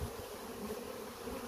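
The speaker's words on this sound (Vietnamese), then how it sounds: "có con ong nó nhìn nó vàng tươi hơn so với con ong mình ở nhà mình nuôi nha" Bright yellow bees flying around a bee-catching box set up by a utility pole, a dense continuous buzz that stays close and even throughout.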